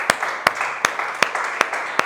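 Rhythmic clapping in a church congregation applauding Jesus, sharp claps landing evenly about every third of a second over a soft background murmur.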